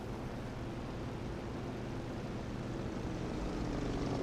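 Propeller aircraft engine drone in a video game dogfight, a steady, dense mid-distance hum that holds level throughout and swells slightly near the end, with no voices.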